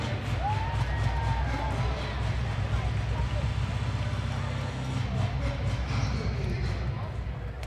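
A roller derby arena crowd for the Unholy Rollers versus Vaudeville Vixens bout fills the space with a steady, loud, dense roar and a low rumble. The cheering runs unbroken throughout.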